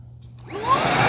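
A Fanttik Slim cordless car vacuum starts up on its low setting, motor whirring up from quiet to a steady close whine within a second.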